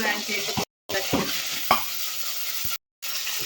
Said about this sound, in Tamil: இப்போ வெங்காயம் வதங்கிட்டு தக்காளி போடலாம்